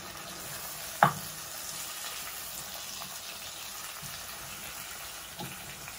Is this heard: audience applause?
no